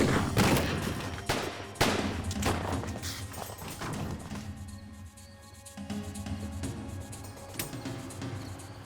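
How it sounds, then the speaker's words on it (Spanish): A gun is fired during an FBI raid on a hideout: several sharp, loud shots ring out in an irregular volley, with reverberant tails and no talk over them. "Cuando McCoy escuchó al FBI, tomó su arma y disparó"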